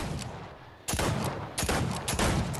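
Repeated six shooter pistol shots in the Fortnite video game, several sharp bursts loud and close, spaced irregularly over steady background game noise.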